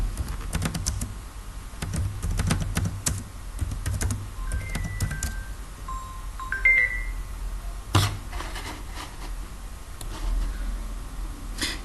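Close, quick keystrokes on a computer keyboard come in irregular bursts as a message is typed into a database macro, with a couple of brief electronic beeps in the middle and no voices.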